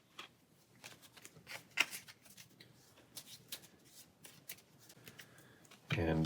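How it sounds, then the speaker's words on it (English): Cards from the Pathfinder Adventure Card Game are shuffled by hand into a deck on a tabletop. The close, rapid papery riffles and flicks come in irregular bursts, followed by a louder handling thump at the end. "we will shuffle that into our deck"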